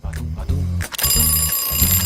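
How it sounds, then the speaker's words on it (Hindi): An alarm clock rings in rapid repeated bursts, loud and near, then breaks into a continuous shrill ring. "और यह क्या है? अलार्म?"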